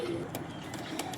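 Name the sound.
Lalpari pigeon cooing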